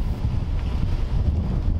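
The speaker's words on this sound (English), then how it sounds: "it's a cold, dreary, and windy day" Steady wind buffets the microphone beside Kentucky Lake on a cold, dreary, windy day, a constant low rumble with no pauses, loud and close, with no voices.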